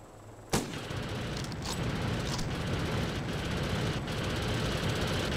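A sharp, loud shot opens a burst of gunfire in Operation Flashpoint Cold War Crisis multiplayer, followed by rumbling battle noise and several fainter distant shots.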